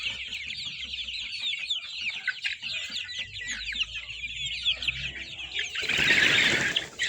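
Roosters raised for meat on a farm cluck and chatter in a dense flock, steady and fairly close, ending with a burst of flapping wings.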